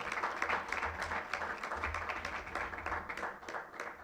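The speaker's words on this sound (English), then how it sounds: "Could you give them a round of applause?" An audience applauds volunteers at a 2017 youth consultation in Kingston, steady mid-distance clapping from a crowd filling the room for several seconds, with a low rumble beneath.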